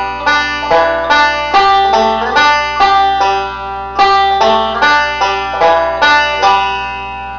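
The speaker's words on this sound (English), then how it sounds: "as you pick the string, you actually bend it up, like in this direction" A Scruggs-style bluegrass banjo plays a lick alone, its bright picked notes falling in a steady rolling rhythm, with one string bent upward so the pitch slides, up close and clear.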